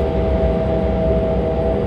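Steady broadband cabin roar inside a JAL J-Air regional airliner taxiing to the parking stand at Fukuoka Airport after a flight from Osaka Itami, a constant low rumble with engine hum, no voices.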